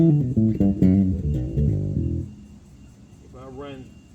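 A bass guitar plays through a Fender amp with all EQ and contour switched out. A run of deep, round plucked notes rings close, then fades, and a brief higher tone follows.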